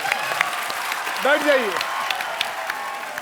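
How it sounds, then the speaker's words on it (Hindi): A studio audience on The Kapil Sharma Show applauds steadily throughout, a continuous wash of clapping. Someone speaks briefly over it midway. "तालियां।"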